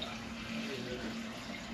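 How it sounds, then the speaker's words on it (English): Water is poured into a container for making sea moss, a soft, steady trickling stream that stays fairly quiet, with a voice faintly present around it. "now what do we do with the water? Pour it in here."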